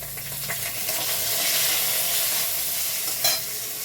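Capsicum sizzles in a mix of white oil and ghee with whole spices, a loud dense hiss that swells steadily and then holds, heard close with a brief stirring clack near the end and no voices.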